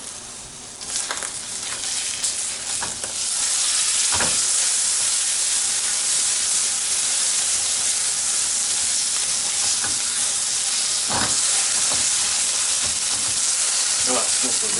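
Egg and ham frying in a pan give off a steady, loud broadband sizzle that swells after the first few seconds and holds, with a few brief scrapes or stirs breaking through.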